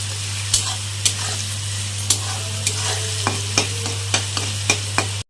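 Onions fry in a pan with salt, turmeric and two green chillies, giving a constant sizzle marked by regular sharp spatula clacks against the pan roughly every half second, over a steady low hum.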